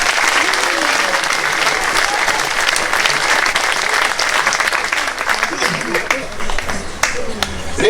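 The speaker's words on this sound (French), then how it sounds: "Vous pouvez les applaudir." An audience at a parish end-of-year pastoral celebration applauds loudly and steadily, with dense clapping from many hands filling the space from start to finish.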